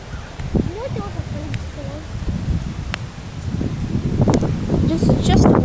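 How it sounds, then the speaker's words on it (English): Strong gusts during a windstorm roar and buffet the microphone, with rustling leaves. The wind is steady and grows louder toward the end while people talk excitedly over it. "This is just the wind."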